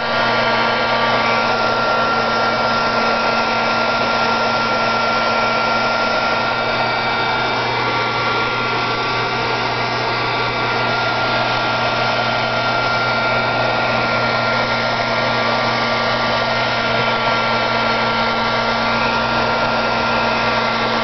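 Heat tool blowing hot air over wet spray inks, a loud steady whirring roar held constant without a break.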